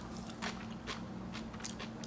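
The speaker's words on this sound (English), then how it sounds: "It's got a nice crunch to it." Crisp, close chewing of raw sea asparagus (salicornia) comes as a handful of short crunchy bites in an irregular rhythm, quiet against a faint steady hum.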